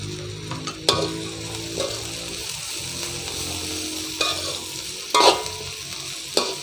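Steady sizzling and scraping of cabbage being stir-fried in a pan for Sri Lankan chicken kottu roti, with sharp bursts of metal clatter now and then, no voices.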